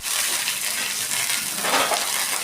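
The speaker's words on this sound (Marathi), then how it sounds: "तेलामध्ये मस्त अशी आपल्याला ती मिरची भाजून घ्यायची आहे" Green chillies frying in oil on a hot tawa send up a loud, dense sizzle that runs throughout, with a slight swell near the end.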